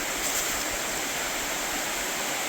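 A mountain creek in Odaesan National Park, South Korea, rushes steadily in a dense, continuous wash of water noise, close and loud with no voices.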